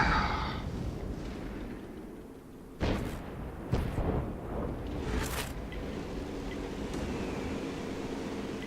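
Tank cannon shots in the World of Tanks video game: two sharp booming reports a second apart, each with a short rumbling tail, over a steady low engine drone and ambient game noise.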